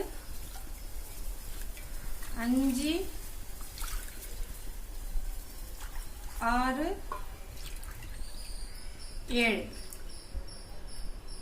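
Cups of water pour into a pot while making chicken biryani with basmati rice, three separate splashing pours a few seconds apart, with a voice speaking between them.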